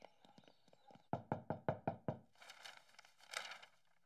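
Five sharp, evenly spaced knocks on a door in a cartoon, loud and close, after some faint lighter taps, followed by quieter rustling and shuffling.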